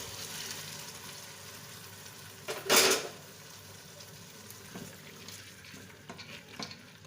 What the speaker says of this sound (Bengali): ডালটাকে দিয়ে ভালোভাবে কষিয়ে নেব